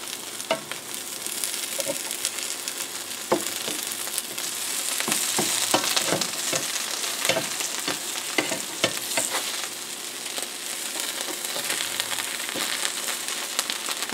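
A grilled cheese sandwich fries in a hot pan, its steady sizzle and crackle running continuously with frequent sharp pops, loud and close throughout.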